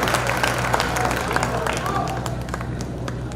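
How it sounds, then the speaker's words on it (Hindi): An audience at a poetry mushaira claps steadily in a dense patter of hand claps, with crowd murmur underneath. "आपकी तालियां दुगनी होनी चाहिए।"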